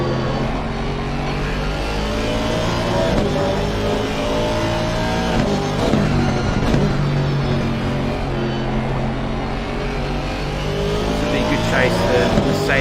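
Race cars in a racing video game lap Watkins Glen, a Mercedes chasing a front-engined Aston Martin through turn 8, with steady loud engine drone, shifting revs and occasional tire squeal running continuously under commentary.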